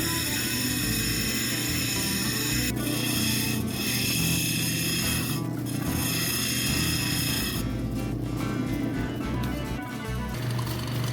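An amethyst cabochon is ground on a lapidary wheel, producing a continuous loud, close rasping and whirring grind with a steady motor hum and brief changes in pressure.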